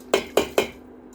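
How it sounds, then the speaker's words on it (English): Washed rice and a cinnamon stick dropped into a pot for rice pudding: three sharp clanking knocks at an even pace, close and fairly loud, then quiet. "Add the washed rice and cinnamon stick."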